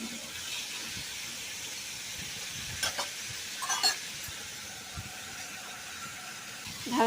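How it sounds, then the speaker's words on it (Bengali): Lote stem chorchori being stirred in a pan, a soft steady sizzle with a few scraping and clattering stir strokes near the end, no voices. "ভালো করে নাড়াচাড়া করে নিচ্ছি"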